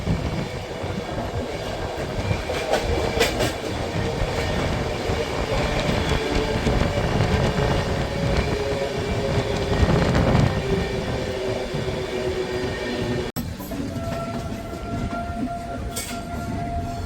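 Interior of the Dhauli Express from Puri to Shalimar rolling along steadily, a constant loud rumble and rattle of carriages on track with faint clicking, the tone shifting abruptly near the end.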